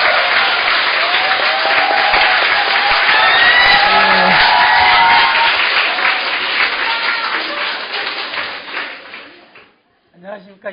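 An audience at a forum on school nutritionists' working conditions greets a presenter with sustained loud applause that rolls on for several seconds, then tapers off and stops, leaving a brief quiet gap.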